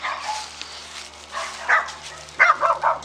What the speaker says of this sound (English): Yes, the mongrels. Yappy dogs.